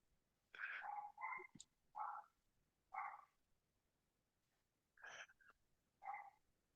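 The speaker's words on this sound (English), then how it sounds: "I know the dog's barking again." A dog barks in short separate bursts, about six barks with pauses between, fairly close and alone with no talking.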